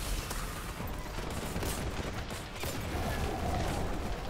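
Grenade blasts and heavy weapon fire in the Warhammer: Boltgun final battle, a loud, dense barrage of overlapping explosive bursts running without pause.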